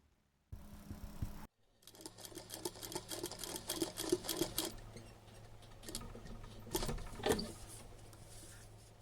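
A sewing machine top-stitches around a fox hoodie tail in quick mechanical bursts of rapid ticking, starting and stopping several times, close and fairly quiet, with a short silent break near the start.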